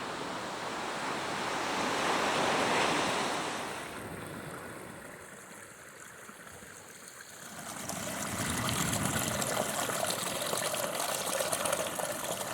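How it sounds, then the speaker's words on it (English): Surf rolls onto an Oregon coast beach among sea stacks and rock formations, with broad washes of waves rising, easing, then building again, roaring steadily with some wind buffeting the microphone and no voices. "It was so peaceful with the sound of the waves and the constant flow of the waterfall."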